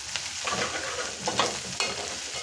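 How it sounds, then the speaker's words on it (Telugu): Sprouts frying in oil are stirred as turmeric is mixed in, giving a steady close sizzle broken by several sharp scraping strokes of a spoon against the pan. "పసుపు వేసి మొత్తం కూడా ఒకసారి కలిపేసుకోవాలి."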